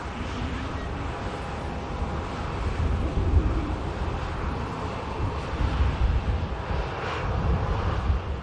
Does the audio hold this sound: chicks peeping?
no